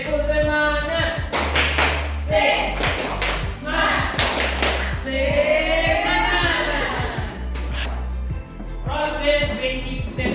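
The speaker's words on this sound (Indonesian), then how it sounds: "Semuanya," A madrasah aliyah class in a Quran and Hadith lesson performs a rhythmic spirit clap, with sharp, evenly spaced claps repeating close by while voices call out along with them.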